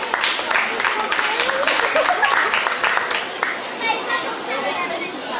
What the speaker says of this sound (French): Vraiment, on peut les applaudir très fort